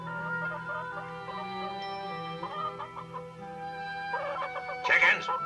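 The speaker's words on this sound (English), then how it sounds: "Chickens, how about laying some eggs like you're supposed to just for a change?" Animated farmyard chickens cluck in a steady murmur over a background score, ending with a rooster's loud crow near the close.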